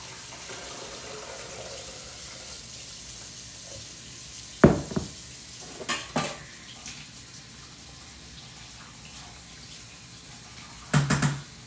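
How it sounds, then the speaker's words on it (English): Homemade apple and plum juice pours through a strainer as a soft, steady trickle of liquid, broken by a few sharp knocks and clatters of containers, near and without talk. "Just gonna pour it back in here, and I'm gonna strain it one more time."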